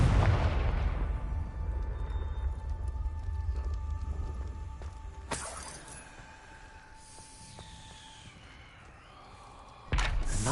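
A Confringo fire spell from the Hogwarts Legacy video game bursts with a deep rumbling explosion that decays slowly, followed by a second sharp blast a few seconds later and another near the end.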